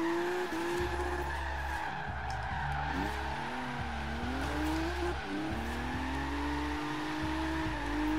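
A Lexus SC300 in the Forza Horizon 3 racing game holds a long drifting tire squeal over a droning engine that rises and dips as it shifts, with no voices.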